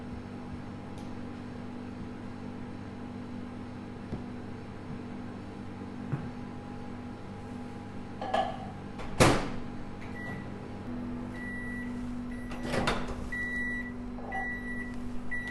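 A microwave oven heating chocolate hums steadily, with a couple of clunks and a door-like knock, followed by a series of short electronic beeps.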